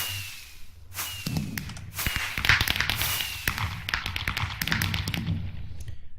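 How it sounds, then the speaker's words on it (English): Fireworks go off in modded Minecraft (Regrowth pack): a string of sharp cracks and pops, some with whistling streaks, bursts irregularly and fairly loudly across the whole stretch. "As the fireworks go off"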